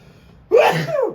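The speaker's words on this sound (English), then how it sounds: "That was a sneeze." A single sharp sneeze, sudden and close, bursting out after a moment of near silence.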